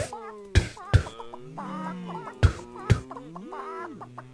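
A cartoon chicken clucks in the video game Hidden Folks, a short series of close, clear clucks punctuated by sharp percussive pops, alone without talk.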